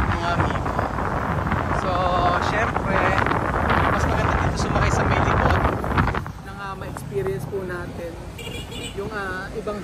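Strong wind buffets the microphone at an airport in Tacloban with a loud, steady roar for most of the time, easing near the end as people talk.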